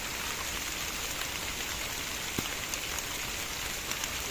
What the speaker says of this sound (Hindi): अल्हम्दुलिल्लाह बारिश हो रही है और बहुत ही प्यारी बारिश हो रही है